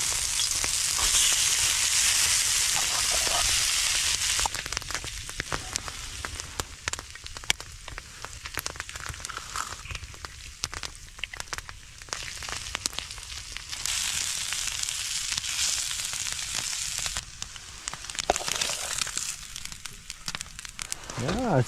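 Frozen corned beef hash sizzles on a campfire griddle outdoors, loud hissing at first, then settling into a softer crackle that swells again, with occasional quiet talk.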